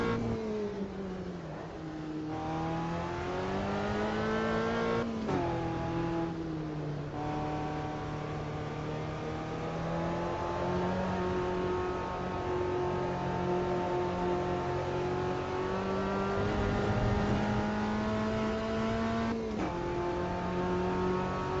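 Race car engine in the racing game Automobilista 2, a sustained droning whine that climbs and drops through gear changes, steady and fairly loud, with no voices over it.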